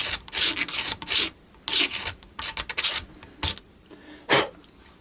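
Scraper rubbing across a guitar body, short rasping strokes in uneven bursts with brief pauses between them, close and fairly loud, no talk.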